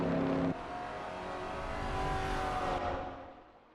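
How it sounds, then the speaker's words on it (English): A Holden Torana and a Ferrari 250 GT California racing in a video game, their engines droning steadily at high revs, a faint tonal whine fading as one car pulls away and the sound tails off. "It's a showdown between a Holden Torana Annex and a Ferrari 250 GT"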